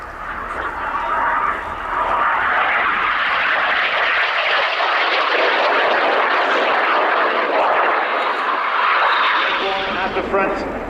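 Red Arrows jets roaring past during a flying display at the Fairford airshow, a loud sustained broadband rush that swells and holds for several seconds, with a commentator's voice beneath it.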